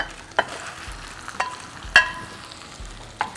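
Soft sizzling of curry paste and pork frying in a pan, with a few sharp scrapes of a spatula stirring at irregular intervals.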